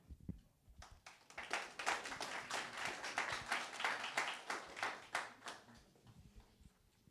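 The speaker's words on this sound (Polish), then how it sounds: "Wielkie brawa dla tych młodych chłopaków." Scattered hand clapping from a small audience at an EFN 7 MMA weigh-in event, individual claps distinct and fairly faint, building briefly in the middle before thinning out at the end.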